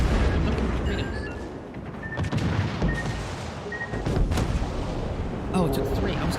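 Torpedo fire and naval explosions in the warship game World of Warships Legends, with repeated booms and rumbling blasts rolling under steady background battle noise while a voice talks over the action.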